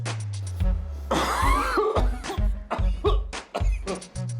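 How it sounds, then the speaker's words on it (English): A string of harsh coughs, close and loud, coming in quick repeated bursts with brief gaps between them. "What's up with the coughing?"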